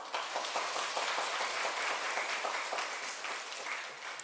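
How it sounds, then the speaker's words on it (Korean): A church congregation at a Sunday service applauds with dense, steady clapping from many hands, sounding moderately distant and filling the room without pause. "뭔지도 모르시고 박수 치셨는데 정말 감사한 것 같습니다"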